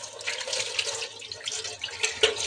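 Tap water running steadily into a sink while a clay face mask is rinsed off, a continuous close splashing hiss with small shifts as hands move through the stream.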